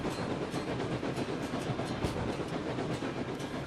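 Steady clickety-clack of a heavy train rolling over rails in Railroads Online, continuous and fairly loud with rhythmic wheel clicks and rumble, no talking.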